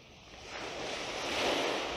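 Ocean surf rolls in as a broad, continuous wash of breaking waves that swells steadily louder toward the end, with no talking.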